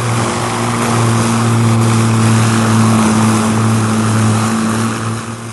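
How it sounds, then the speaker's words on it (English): Port-side engines of an airliner running at full power during an approach, a loud, steady droning roar with strong low harmonic tones that holds throughout and eases slightly at the end. "the port engines are running at full power"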